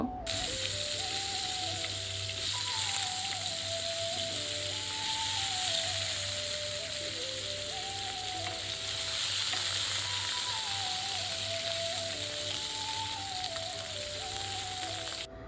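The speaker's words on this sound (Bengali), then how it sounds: "তারপরে ওই তেলের ভিতরে আলুগুলোকেও ভেজে নিব" Potatoes frying in oil as part of a Bengali hilsa and cauliflower curry, giving a steady, close, continuous sizzle with no talking, under background music throughout.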